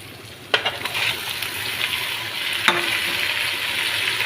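Chopped tomato sizzling in a hot pan with coriander and mint, a steady close frying hiss with a couple of sharp clicks near the start and midway, no talking.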